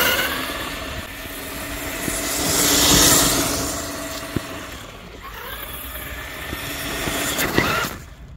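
A Yikong YK4107 Nissan Patrol RC trail truck drives in second gear, its small motor whirring and swelling as it passes close, with scrapes and bumps from the terrain.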